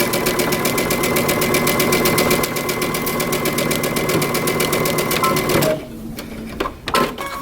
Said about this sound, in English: we're going to stitch our pocket down using 3/8 of an inch seam allowance